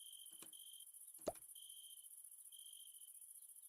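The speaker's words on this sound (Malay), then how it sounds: "Dengan bunyi cengkerik ni sumpah tak membantu dok." Crickets chirp at night as a steady high-pitched trill running throughout, with a couple of brief soft knocks or plops breaking in near the start.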